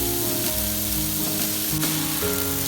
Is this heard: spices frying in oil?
yes